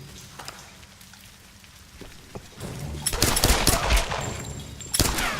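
Gunfire in the Tomb Raider video game, rapid bursts of shots that swell into a dense loud volley over a rain-like background hiss.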